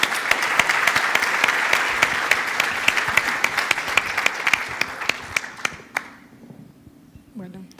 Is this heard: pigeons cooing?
no